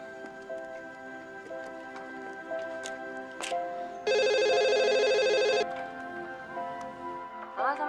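A mobile phone rings with one loud electronic ringtone burst lasting about a second and a half, standing out over a soft background music bed with faint ticking.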